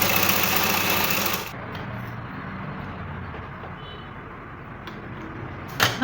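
A sewing machine stitches a gown sleeve in one steady, droning run that drops to a softer hum partway through, close and alone with no voices.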